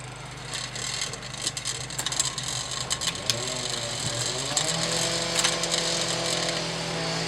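A bicycle chain rubbing against the front derailleur while pedalling in the middle front chainring and bottom rear cog; a continuous close whirring scrape with light rhythmic ticks that grows steadier toward the end.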